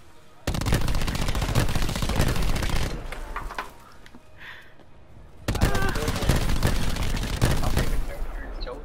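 Sustained rapid automatic gunfire in the video game Firebreak, loud and close, with two long bursts separated by a short lull of scattered shots.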